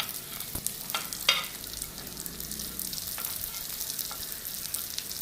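Carrot pieces and curry leaves frying in a pan for tempered chickpeas, a continuous soft sizzle with occasional spoon scrapes and taps, close and moderate in level, no talking.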